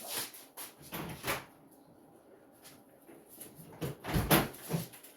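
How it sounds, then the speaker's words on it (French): Several close, sharp knocks and rattles of a door or cabinet being handled, spread unevenly, with a louder cluster of bangs near the end. "Je m'en vais ouvrir la porte."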